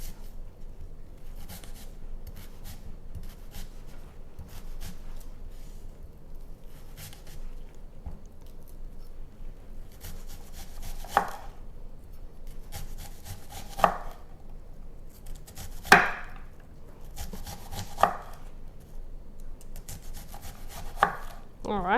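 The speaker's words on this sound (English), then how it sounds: "I like to make crisscross slits in my onion, so when I dice it up" A knife dicing a crisscross-slit onion on a cutting board, with soft rapid tapping that grows into sharper, louder chops in the second half, close and without voices.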